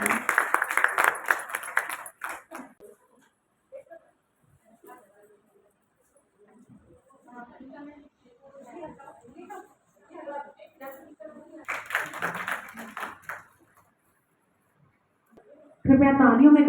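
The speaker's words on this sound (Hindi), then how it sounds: "कृपया जोरदार तालियों से हमारे मंच के आदरणीय अधिकारियों का स्वागत करें।" An audience at a women's organization ceremony in a college hall claps in short bursts to welcome officials on stage, with quiet stretches of distant talk between rounds and a loud burst at the end.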